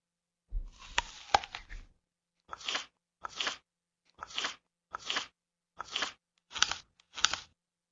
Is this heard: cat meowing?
no